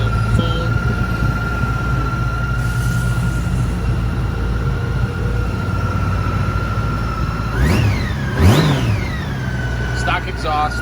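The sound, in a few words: 2015 Honda Goldwing GL1800 trike engine with stock exhaust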